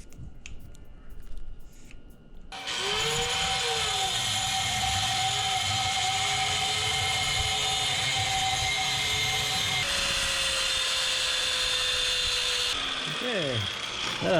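Power tool, likely an angle grinder, cutting steel brackets for a Mega Moto 212 minibike engine mount, with a loud, sustained high-pitched grinding whine that starts abruptly and runs steadily with shifting pitch as the blade bites the metal.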